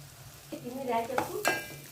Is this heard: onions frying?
yes